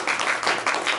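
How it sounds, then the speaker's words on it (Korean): A church congregation at an Easter Sunday service claps together in a short, dense burst of applause, heard nearby for about a second. "박수로 하나님 앞에 영광 돌립시다."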